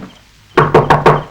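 Four firm, evenly spaced knocks on a door, loud and close, in a Tamil film scene, with no talk over them.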